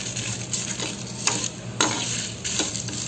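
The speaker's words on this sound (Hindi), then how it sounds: "चलिए पहले अपने मसाले भून लेते हैं धीमी आँच पर" Biryani spices roasting in a pan on a medium flame give a soft, steady frying hiss, broken by a few sharper stirring scrapes at irregular intervals, close and moderately loud.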